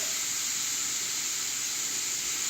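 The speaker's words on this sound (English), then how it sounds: "as these vegetables continue to saute and sear a little bit" Vegetables for a cheese steak sauté and sear in a pan, giving a steady, even hiss and sizzle with no breaks or talk.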